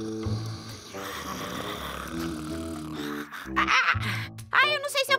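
A storyteller's voice imitates a prince snoring in a children's book reading, giving drawn-out, rattling snore sounds and snorts in a slow rhythm, fairly close and loud, with no other talk.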